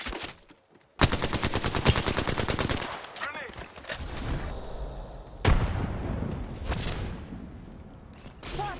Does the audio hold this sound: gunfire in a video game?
yes